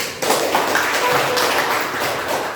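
Applause from a class during a church-themed lesson, a dense continuous patter of clapping hands that holds at a steady, fairly loud level after a brief quieter opening.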